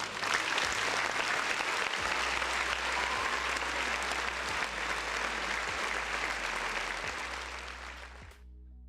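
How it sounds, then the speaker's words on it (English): Sustained applause from a large crowd, loud and steady for several seconds, tapering slightly before cutting off at the end. "I got to give Jim Ryan another round of applause"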